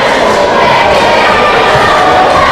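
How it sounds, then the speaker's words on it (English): Fans in a high school boys' basketball gym booing a foul call, a loud sustained wash of crowd voices filling the short stretch. "I don't know why the Saranac fans are booing"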